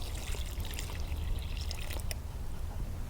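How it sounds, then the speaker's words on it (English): Water pours steadily from a can onto freshly backfilled soil around a transplanted tomato plant in a garden, a close, continuous trickle and splash lasting a few seconds. "And do a final watering in."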